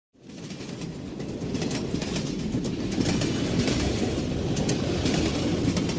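Train travelling on the rails, a steady close rumble that fades in and holds with rhythmic clickety-clack of the wheels, heard alone without voices.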